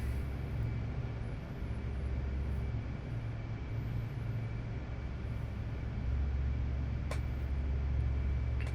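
A C-130J transport aircraft taxiing toward the runway in DCS World, a steady low engine drone with constant turboprop hum and a brief click near the end, no talking.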